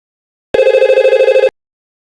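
An IP telephone rings during a call test in Packet Tracer: one loud burst of rapid, trilling electronic ring lasting about a second, clean and alone against silence.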